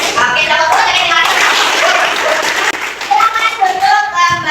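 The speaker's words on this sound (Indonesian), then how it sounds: "Oke, tepuk 2 dari 5." Schoolchildren in a classroom clap a counted rhythm called out by their teacher, producing sharp, dense bursts of hand claps mixed with children's voices and speech.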